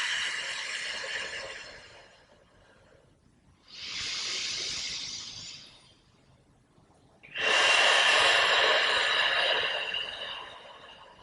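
Deep, slow yoga breaths drawn into the low belly during a practice for period relief: two long airy exhales, the second louder and closer, separated by quiet pauses, with no talking.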